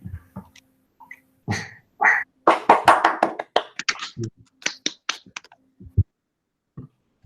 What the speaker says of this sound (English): You can hear us all clapping.